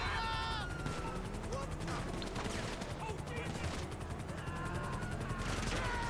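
Video game gunfire in GTA Online during a shootout with police: dense bursts of rapid shots and clatter mixed with sirens and game effects, under people talking.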